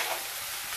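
Green chilies sizzling and frying in hot oil in a pan while a rajma curry is being made, a steady close hiss with faint stirring and no talk.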